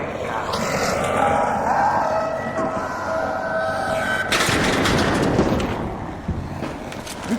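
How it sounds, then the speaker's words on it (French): Gunfire from an online shooter video game, a dense stretch of shots and blasts running the whole time, loud and busy, with a sharp burst partway through. "il va te tirer dessus, le mec"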